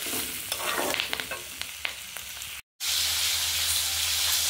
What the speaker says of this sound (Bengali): এবার এতে লঙ্কা গুঁড়ো, নুন দিয়ে আর জল ঢেলে দেবো